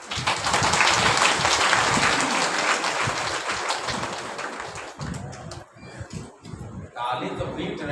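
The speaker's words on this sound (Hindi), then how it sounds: "ताली तो पीट रहे हो आज" A crowd at a religious discourse during an ashram's foundation-day satsang claps in a dense, loud burst that gradually thins and fades, and a voice continues over and after it.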